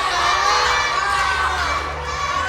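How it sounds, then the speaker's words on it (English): Children shout and cheer together loudly and continuously, urging on a classmate during a timed exercise challenge, with a dense, steady crowd of young voices filling the scene. "let's cheer Adeline on"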